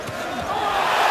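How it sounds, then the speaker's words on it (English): A packed arena crowd at a world light welterweight title boxing fight roars as a punch lands, a broad swelling wall of cheering that builds and grows louder through the moment, close and continuous. "this crowd erupts"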